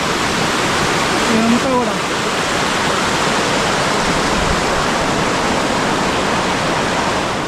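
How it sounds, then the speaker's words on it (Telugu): A waterfall in Andharban forest spills down in stages, a loud unbroken rushing roar close by that fills the whole stretch, with a voice briefly speaking over it. "అదే వాటర్ మనకి స్టేజెస్గా పడుతూ చూడండి ఎక్కడ దాకా వస్తుందో"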